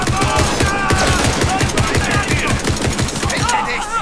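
Rapid automatic gunfire from a video game rattles in tight bursts, loud and close, with overlapping game effects throughout.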